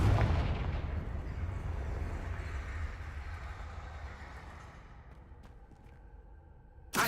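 A Confringo fire-explosion spell in Hogwarts Legacy bursts with a loud, deep boom that rolls off into a long fading rumble, and a sharp impact follows near the end.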